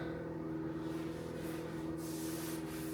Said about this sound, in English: get a wet sponge and sponge it all off and make sure you get it off the coving